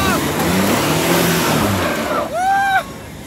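A four-litre Jeep Compass without four-wheel drive revs hard while climbing a dirt hill, its loud, steady engine roar swelling into a rising whine near the end, with voices talking over it.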